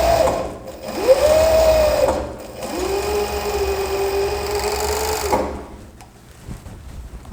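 A sewing machine finishing the raw edge of fabric so it won't fray, running in two steady whirring passes separated by a short stop, close and clear with no talk.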